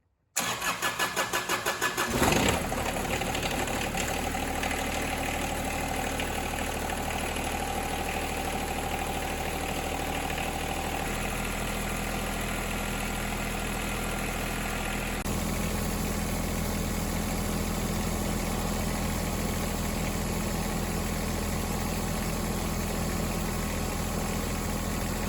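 John Deere 2210 compact tractor cranks briefly and fires, its small diesel engine settling into a steady, loud idle with a rough rhythmic rumble that continues for over twenty seconds without talk.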